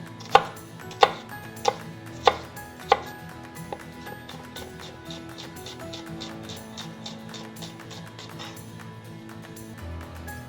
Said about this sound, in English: Finely mince them so nobody gets a big chunk of garlic in their ravioli